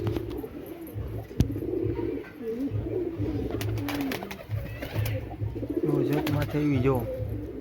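Racing pigeons coo at a loft after a morning tournament flight, soft repeated low coos close by, under continuous Gujarati talk and rustling.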